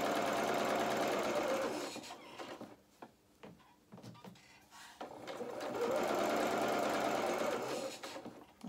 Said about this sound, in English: let's just start with a centimetre seam allowance and reverse stitch, start off with